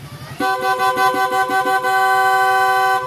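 On a Yamaha Mio Gear scooter, a loud, steady aftermarket electric horn blares continuously after a brief idle engine rumble, a bright sustained tone held for several seconds.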